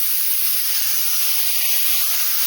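Pressure cooker steam hisses steadily while dal cooks for puran poli, a continuous, fairly loud broadband hiss with faint low rumbles underneath and no talking.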